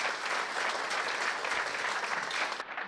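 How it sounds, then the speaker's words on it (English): An audience at a medical lecture gives sustained applause, dense steady clapping from many hands that cuts off abruptly near the end. "let's get a round of applause here for Dr."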